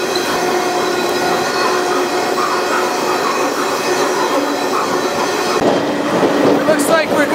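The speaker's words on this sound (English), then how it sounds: "This train is roaring through another dismal Indiana town." A freight train roars through an Indiana town at dusk, heard from aboard with a loud continuous rumble, rattling cars and clickety-clack, and wheel squeal rising near the end.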